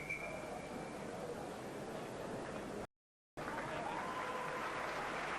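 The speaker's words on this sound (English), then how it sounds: "comes off to tremendous applause" Crowd applause at a rugby league legends match between Great Britain and Australia, a broad steady roar of clapping from a large stadium crowd, briefly cut off by a short gap of silence before it resumes.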